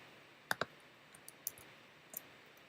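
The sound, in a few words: mouse click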